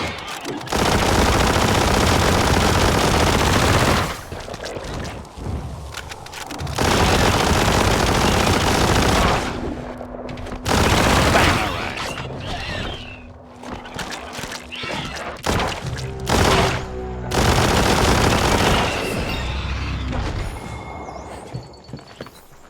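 Bursts of rapid gunfire in the video game Biomutant, loud and repeated in several volleys of a few seconds each, separated by short lulls with quieter game sounds.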